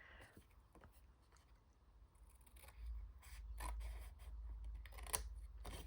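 Scissors snip along the score line of paper scraps, a few quiet close cuts with a low handling rumble beneath.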